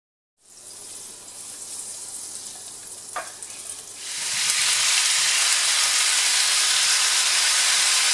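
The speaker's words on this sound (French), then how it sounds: "Là, je vais les faire sauter un petit peu." Mushrooms sauté in a pan for a filet mignon mushroom sauce: a loud, steady sizzle and hiss starts abruptly, then swells sharply partway through as the heat builds, with no talk.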